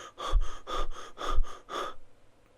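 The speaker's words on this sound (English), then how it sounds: "you can hear him struggling to breathe" A man struggles for air, letting out five rapid, labored gasping breaths in a steady rhythm, close and fairly quiet, before falling silent.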